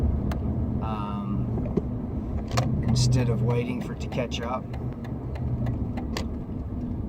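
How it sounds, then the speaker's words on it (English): Steady road traffic rumbles past nearby as someone talks over it, the engine noise continuous under his voice throughout. "There's a ton of traffic here."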